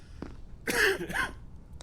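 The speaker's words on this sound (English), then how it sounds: "You got a cough." A character in the video game Quarantine Zone gives a short, throaty cough, two rough bursts close up against a quiet background.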